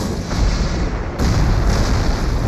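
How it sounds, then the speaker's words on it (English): Heavy artillery fire in the Hochwald Gap tank battle, a dense, continuous low rumble of distant barrage that swells louder partway through, with no voices. "The heavy artillery clears the Germans"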